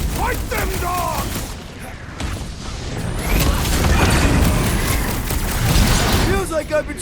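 Blaster gunfire from the Guardians of the Galaxy video game crackles in dense, rapid bursts amid crashes and impacts, loud and continuous, with character voices and whooshing effects mixed in.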